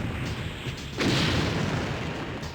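A rocket launcher blast in The Crow: City of Angels video game, a sudden dull boom that swells into a sustained rumbling roar over a noisy game background, with no talk.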